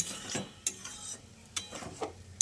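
Potatoes, stalks and pumpkin are stirred with water in a pot for a Malabar spinach dish. A utensil makes close, soft, wet scrapes and knocks every half second or so.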